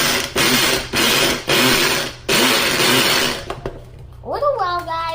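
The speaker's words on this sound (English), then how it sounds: "see the blender?" A kitchen blender whirs loudly in repeated bursts with brief pauses between them, then stops, and a voice speaks over the quieter ending.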